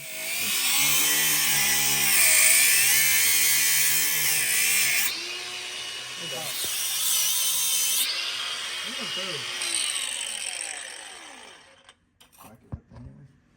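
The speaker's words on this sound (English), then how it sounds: "So just use the air hammer." A loud air hammer rattles continuously for several seconds, pauses, then runs again, with people talking nearby as it winds down, during a Flxible bus torsilastic suspension change.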